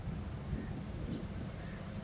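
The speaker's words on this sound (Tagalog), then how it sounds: "Ang sarap ng hangin." Low, steady wind rumble buffets the microphone at Khorfakkan Beach in Sharjah, UAE, a continuous outdoor roar with no speech, moderately faint.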